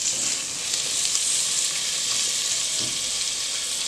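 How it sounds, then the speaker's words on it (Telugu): Beans and potatoes frying in a pan: a steady, close hiss of sizzling oil that holds constant throughout, with faint stirring beneath. "కొద్దిగా బీన్స్ అండ్ కొన్ని ఆలు, ఇవన్నీ మనం మంచి మిక్స్ ఇచ్చి ఒక 5 మినిట్స్ కొంచెం ఫ్రై చేసుకుందాము."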